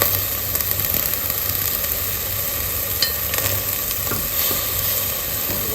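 Overnight-soaked boiled rajma beans are stirred into a masala in a pan, giving a steady close sizzle with scraping and stirring clinks and no talk.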